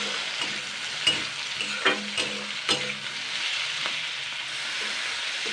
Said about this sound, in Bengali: জাস্ট আমি এগুলোকে আগে 2 মিনিট মতন হালকা নাড়াচাড়া করে নেব।